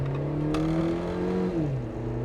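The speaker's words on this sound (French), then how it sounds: "Yeah, floor the car, go." A Suzuki Jimny converted to Brabus G-Class style revs hard under acceleration, the engine note rising steadily and close, then dropping briefly as it shifts.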